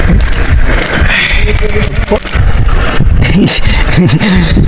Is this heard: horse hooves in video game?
no